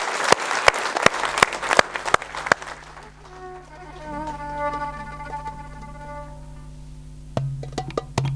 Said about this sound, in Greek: Ένα θερμό χειροκρότημα για τα παιδιά μας.